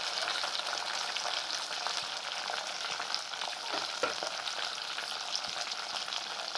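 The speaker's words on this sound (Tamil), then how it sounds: "தக்காளி, வெங்காயம் போட்டு நல்லா வதக்கிக்கலாம்." Green chillies, tomato and onion sautéing in a pan, giving a steady, close hiss and sizzle with faint stirring scrapes throughout and no speech.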